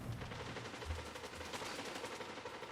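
Linear fusion rifle and other gunfire in the Destiny 2 PvP video game, a faint, rapid stream of sharp shot bursts that runs steadily without pause, with no voices.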